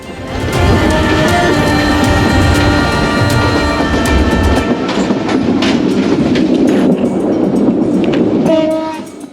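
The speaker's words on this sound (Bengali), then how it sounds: "আমরা যে ট্রেনে যাচ্ছি সেটা করতোয়া এক্সপ্রেস।" The Karatoya Express passenger train between Bogura and Gaibandha rolls along the rails with a loud, continuous rumble and clatter. Tonal horn-like squeals rise briefly near the end.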